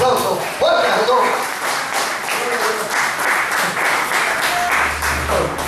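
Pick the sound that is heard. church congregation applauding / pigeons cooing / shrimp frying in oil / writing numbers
church congregation applauding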